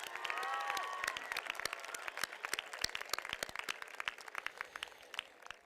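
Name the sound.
applause for graduating seniors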